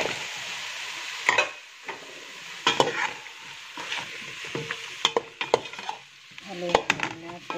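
Vegetables stirred in a pot of macaroni with broth: a steady sizzle overlaid with irregular scraping and clinking strokes of the spoon, a few sharper knocks near the end, and no talking.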